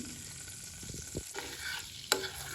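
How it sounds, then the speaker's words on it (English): Butter browning in a pan with star anise and cinnamon, stirred steadily with soft sizzling, a few scraping strokes and one sharp clink near the end. "We have to keep moving the butter so it doesn't burn"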